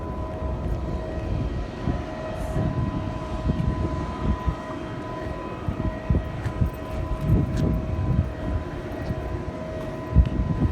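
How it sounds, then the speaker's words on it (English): A low, rumbling helicopter engine starting up drones steadily with a faint tonal whine, the sound rising and falling unevenly as it runs nearby. "I think that helicopter's starting up"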